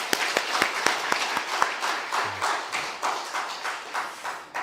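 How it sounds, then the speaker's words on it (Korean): Scattered, sparse clapping from a church congregation at a pastor's installation service, individual claps audible and thinning out, moderately near with no voices. "박수 해드리겠습니다"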